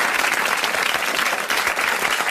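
Studio audience on a 1984 French television show applauding a guest, a dense, even wash of clapping from a large crowd, loud and unbroken from start to finish.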